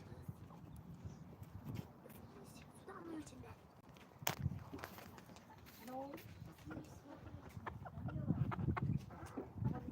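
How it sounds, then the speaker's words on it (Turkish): Hens cluck and murmur in a busy chicken yard, with scattered squawks, a sharp knock, and people talking nearby. "Burada kaç tane tavuk var biliyor musun Eren?"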